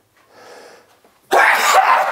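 A single loud, close sneeze bursts out abruptly after a short stretch of quiet, faint breathy sound, spoken in a building-trade setting.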